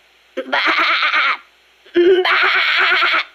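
A human voice in the video game Metal Gear Solid: Peace Walker imitates a sheep, giving two drawn-out, wavering bleats close to the listener with a short pause between them.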